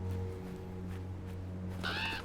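Crow cawing in the foggy, spooky world of the video game Draugen, a single burst of harsh caws near the end over a steady low ambient drone.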